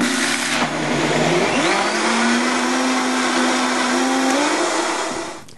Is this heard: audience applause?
no